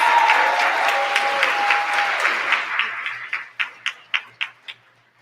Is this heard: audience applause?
yes